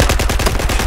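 Rapid automatic gunfire in Battlefield 4 on the Hammerhead map, a tight burst of about a dozen close, loud shots in quick even rhythm, with no talk over it.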